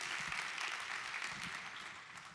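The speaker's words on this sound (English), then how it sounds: "one more big, huge round of applause for Udam and Mike and Nick and Pavan and everybody" A conference audience claps steadily as a session wraps up, a dense wash of many hands held at an even level throughout.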